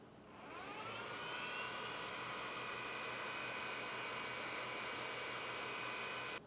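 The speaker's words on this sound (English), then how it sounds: "this giant part cooling fan that attaches to the back of the X-axis" Large part cooling fan on a Neptune 4 Max 3D printer, mounted behind the X-axis and blowing through long rectangular nozzles, spins up within a second into a loud, steady airy whoosh with a faint whine that holds to the end.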